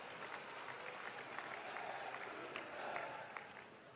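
A crowd claps at an outdoor political rally addressed by JP Nadda in Mahua, steady applause of moderate loudness continuing throughout with scattered sharper claps rising and falling.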